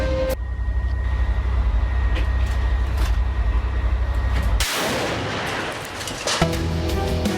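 Gunfire during combat in eastern Gaza's Shujayyah area: a dense, loud roar of shooting with low rumbling at the start, shifting into a harsher burst of sharp reports near the end, with no talk.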